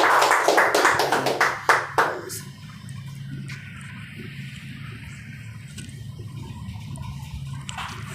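Audience applause at a Gandhi Jayanti gathering, a loud burst of clapping for about two seconds that quickly stops, leaving a quiet room with faint background hum.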